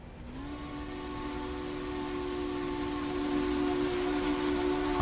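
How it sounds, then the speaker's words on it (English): A steam train whistle in the railroad video game Railroader sounds one long, steady blast that grows louder and holds to the end. "I like that whistle. That whistle sounds pretty sweet."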